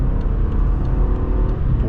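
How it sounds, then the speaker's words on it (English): A 2013 BMW 750Li xDrive pulling hard under acceleration, a steady, loud, low engine drone heard from inside the well-insulated cabin, continuous with no talking. "I didn't even go halfway on the throttle, and it was already flying."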